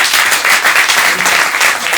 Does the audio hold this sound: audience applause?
yes